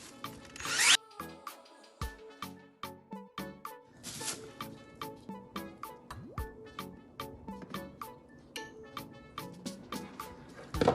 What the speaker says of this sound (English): What I do is just drill some holes in.